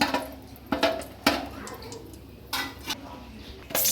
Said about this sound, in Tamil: இப்போ இந்த எண்ணெயில் பிரியாணி இலை ஒரு 4-5 பிரியாணி இலையை நல்லா வதக்கிக்கோங்க